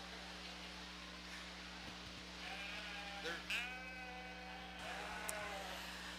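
Sheep bleat at a 4-H and FFA county fair sheep show, several wavering calls rising over a steady background hum of a show barn.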